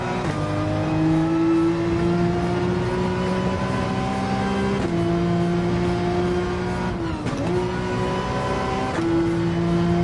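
A race car engine in Gran Turismo 7 at the Red Bull Ring revs loudly and steadily up close, with sustained high-pitched tones that dip briefly at gear changes around the middle and late in the run, with no talk.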